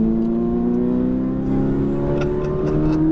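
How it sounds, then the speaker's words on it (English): Ferrari 458 Italia V8 accelerating out of a corner on a race track, a loud, close engine note rising steadily in pitch for about three seconds with no pause. "Now we're squeezing that throttle out to the right side, Alex"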